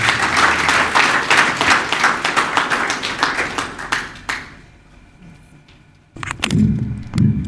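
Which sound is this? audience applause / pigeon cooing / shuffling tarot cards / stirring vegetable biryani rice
audience applause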